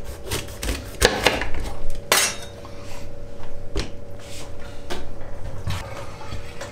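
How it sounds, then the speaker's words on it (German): A knife slices through a bell pepper on a board in a home kitchen, giving irregular crisp snaps and scraping rubs, with a few sharper cuts and clatters spread over the moment. "So, jetzt machen wir die Paprika. Die schneiden wir einfach hier runter."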